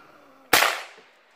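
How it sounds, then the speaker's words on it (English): A single sharp gunshot cracks out during target shooting in the bush, loud and close, its report decaying into a brief echo against quiet surroundings. "Out doing some target shooting."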